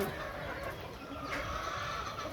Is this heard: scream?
no